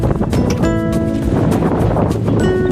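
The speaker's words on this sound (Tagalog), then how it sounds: "Ay masyadong mahangin ngayon." Strong wind blows outdoors, buffeting the microphone with loud broadband rumble and gusts throughout, with faint tonal hums and clatter underneath.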